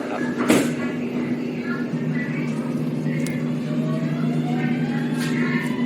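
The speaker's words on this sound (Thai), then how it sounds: "ครับก็ประตูจะปิดทางด้านซ้ายนะครับ" The sliding doors of a Bangkok MRT Blue Line metro train close, with a brief clunk near the start and a soft rumble under a steady electrical hum from inside the carriage.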